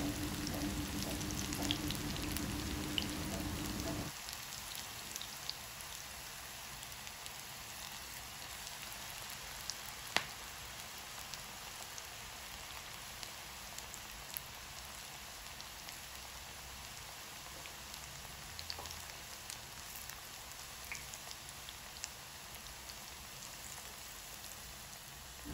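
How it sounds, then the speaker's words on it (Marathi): Spinach bhaji fritters deep-fry in oil over a medium flame, a steady fine crackling hiss that sounds like rain, with a brief low hum at the start before the frying continues alone. "भजी हळूहळू एक एक तेलात सोडावी व गॅस मध्यम आचेवर ठेवून भज्यांना सोनेरी कलर येईपर्यंत दोन्ही बाजूंनी तळून घ्यावी।"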